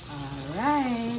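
Chicken wings frying Jamaican style in hot oil, a steady close crackling sizzle that runs throughout while a voice hums or speaks over it.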